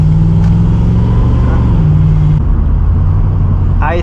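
A Ford Mustang GT 3V drives along, its engine a loud, steady low hum heard from inside with a slight shift in tone midway and no speech.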